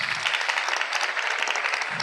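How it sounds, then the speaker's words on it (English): An audience at a global infectious diseases conference gives a lecturer a brief round of applause, close and dense clapping throughout. "A round of applause for him,"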